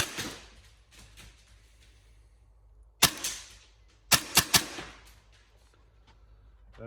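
A black Tokyo Marui MP7 gas blowback airsoft rifle running on Vorsk V8 gas fires a handful of sharp cracks, one alone then a quick cluster of three, loud and close against a quiet background.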